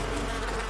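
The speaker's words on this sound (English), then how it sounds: "I didn't know you could get attacked by bees in this game." A dense, continuous swarm of attacking bees in Far Cry New Dawn drones loudly and close, a steady unbroken buzz filling the whole moment.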